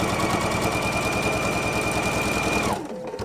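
A sewing machine stitches through quilt fabric in a steady, loud, continuous run that stops abruptly near the end, leaving quiet room tone.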